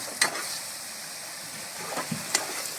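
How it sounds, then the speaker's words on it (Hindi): Marinated chicken frying in hot oil for a restaurant-style chicken dish gives a steady, close sizzle. A few sharp clicks and scrapes of stirring break through the hiss. "जो हमारा मैरिनेट किया हुआ चिकन है इसको तकरीबन आधा घंटा हो चुका है, तो इसको हम डाल देते हैं और इसको 7 से 8 मिनट के लिए अच्छी तरह से भून लेंगे"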